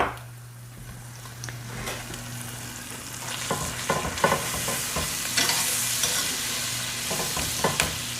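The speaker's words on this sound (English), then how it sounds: "I'm going to add 2 tablespoons of flour. And we're going to mix that around and cook that" Flour is stirred into sizzling butter in a pan as a roux cooks, with a constant low hiss and frying crackle under repeated scraping and stirring strokes that grow louder midway.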